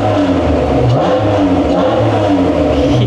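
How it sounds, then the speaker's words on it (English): Supercharged Acura NSX with an aftermarket exhaust revving in place, a loud, close engine roar that rises and falls in repeated swells with a whining, angry edge. "The initial boost for the supercharger makes it sound so angry."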